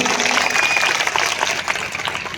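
A congregation at a church testimony gathering claps for the Lord Jesus Christ in a short, dense burst of hand-clapping that swells and then eases.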